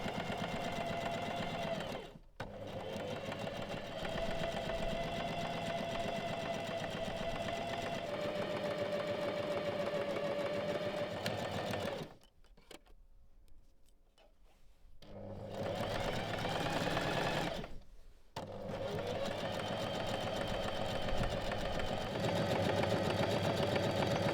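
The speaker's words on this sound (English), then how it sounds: "sew along the side using your serger or a zigzag stitch to finish the whole side seam." A serger runs continuously, finishing the side seam of a robe with a steady close mechanical whir that pauses twice briefly and once for a few seconds before resuming.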